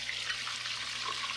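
Water draining off just-fried beef, smoked turkey and shrimp for Liberian-style fried okra, a faint, steady trickle and hiss throughout with no voices.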